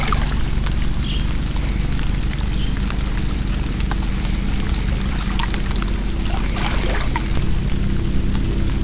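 Small 2.5 hp outboard motor pushing a kayak through the water off an island near Lahad Datu, Sabah, a steady low engine drone running throughout with rain pattering and water noise layered over it.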